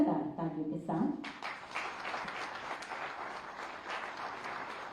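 Audience at an investors' meet for a textile and apparel park applauds continuously, a steady moderate wash of clapping that rises after a woman's spoken announcement at the start.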